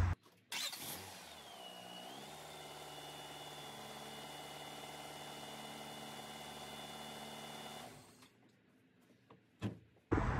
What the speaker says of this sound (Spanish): vamos a arrancar el carrito por 5 a 10 segundos